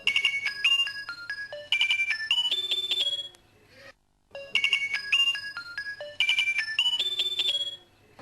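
Electronic phone ringtone for an incoming call, a bright repeating melody of beeping notes played twice with a short pause between, clear and close.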